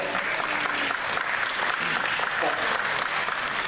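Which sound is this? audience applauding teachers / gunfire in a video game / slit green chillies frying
audience applauding teachers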